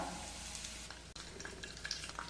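Red chillies and curry leaves frying in hot oil for a fish curry, a close, quiet crackling sizzle with scattered pops and stirring scrapes, one brief dip midway, no talking.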